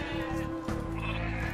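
A sheep in a strategy video game bleats, with a short wavering cry sounding clearly against a steady game background.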